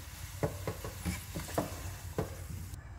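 A spoon stirs onion, ginger, garlic and turmeric masala in a hot pan, giving a steady sizzle broken by repeated soft scraping taps, close and fairly quiet.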